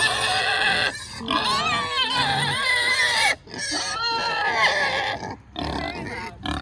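Polynesian pigs squeal and grunt loudly and insistently, a chorus of high shrill cries and snorts close by with brief pauses between bursts, sounding noisy and demanding.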